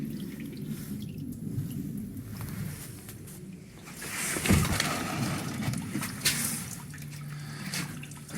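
Coolant draining from a 2019 CFMOTO 500S motorcycle, a steady trickle and splash of liquid with a small surge in the middle, close by with no talking.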